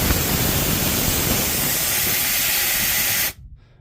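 A Parkside PSK068A1 silent compressor releases a loud, steady rush of hissing air, close up, for about three seconds before it cuts off abruptly, leaving faint residual noise.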